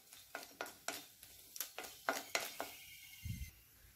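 Asafoetida and broken lentils are dry roasted in a pan for dosa podi, with a quick run of close scraping stir strokes, about a dozen in a steady rhythm, then a dull knock.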